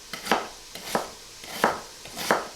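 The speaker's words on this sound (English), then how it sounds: "I'm just going to chop up some onions, carrots and celery and make a mirepoix." A knife chops onions, carrots and celery steadily on a cutting board for mirepoix, four crisp double-tap strokes at an even rhythm, close and clear with no talking.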